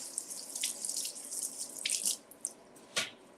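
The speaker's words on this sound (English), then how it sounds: "So let me just rinse this off." Kitchen tap running water to rinse vegetables in a sink, a soft steady hiss of flow with splashes and a few drips as the stream is interrupted, close and quiet with no talk.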